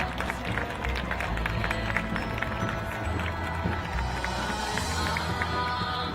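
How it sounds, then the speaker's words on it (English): Audience applause and crowd noise for a youth group at an outdoor bridge inauguration ceremony at a Buddhist temple in Australia, a steady dense wash of clapping and murmur lasting throughout with voices mixed in. "the youth group, please give them a warm round of applause."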